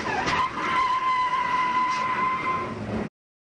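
A NASCAR stock car slides sideways, its tires skidding in a loud, sustained squeal with engine roar underneath that holds for about three seconds and then cuts off abruptly.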